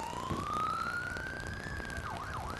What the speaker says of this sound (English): On the Diboll Volunteer Fire Department truck. And they are making the noise.